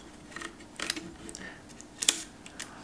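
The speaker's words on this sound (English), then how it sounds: "open the shutter like so and open the aperture" Shutter of a Mamiya 6 K2 vintage medium format camera being opened, a series of small sharp mechanical clicks and ticks spread out at close range, with a crisper click near the end.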